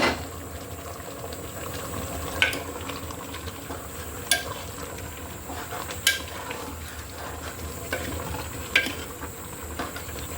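Beef with chana dal simmers and braises in a loosely covered pot, giving a steady bubbling, hissing cook sound with a few sharp metallic clinks recurring every couple of seconds.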